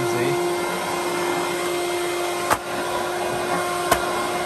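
A Goblin Rio vacuum cleaner runs steadily with a constant motor whine and airflow hiss, moderately loud and close, broken by two sharp knocks.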